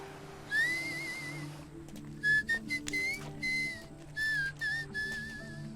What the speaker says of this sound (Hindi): आप बिना मुंह हिलाए सीटी कैसे बजाते हो?